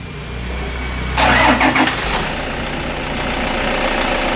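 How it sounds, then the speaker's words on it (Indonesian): A Toyota Innova 2KD diesel engine running on biodiesel cranks briefly and catches, then settles into a steady, low idle rumble. "ini saya coba untuk menghidupkan ya teman-teman, menghidupkan mobil ini"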